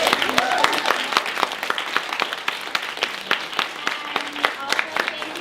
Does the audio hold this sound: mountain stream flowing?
no